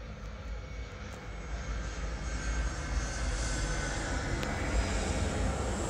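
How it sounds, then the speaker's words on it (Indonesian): Airplane engine roar, a steady broad rumble that slowly swells as the aircraft passes overhead and stays loud throughout, with no talking. "kenapa ya pesawat lewat mulu ya?"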